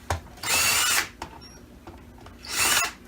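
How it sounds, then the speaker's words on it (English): Power driver backing out T15 Torx screws from a Dyson DC25 vacuum cleaner: two short high-pitched whirring bursts with a pause between, close by, with faint clicks and handling noise. "you're gonna need a T15, and you're gonna have to remove all these screws here."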